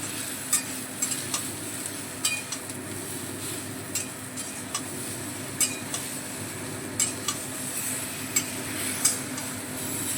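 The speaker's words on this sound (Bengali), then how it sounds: "নুনটা এবার সমস্ত সবজির সঙ্গে একটু নেড়ে চেড়ে দিচ্ছি।" Vegetables salted in hot oil for a Bengali neem jhol sizzle steadily while a utensil stirs them, making regular light scraping clicks against the pan, close and fairly quiet.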